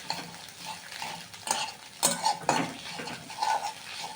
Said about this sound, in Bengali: ডিমটাকে খুঁটির সাথে কেটে কেটে ছোটো ছোটো করে নিয়েছি।